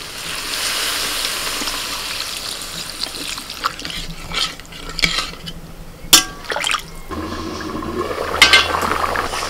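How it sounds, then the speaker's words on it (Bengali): Water is poured into a pan of potatoes fried with spices for a cauliflower-potato curry: a steady splashing trickle, broken by a few clinks of utensils, then a low bubbling simmer. "এবার জল ঢেলে দেবো।"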